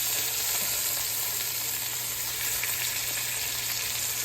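Braciole meat rolls browning in a hot pan, a steady, close sizzle and crackle of frying that holds even throughout with no voices over it.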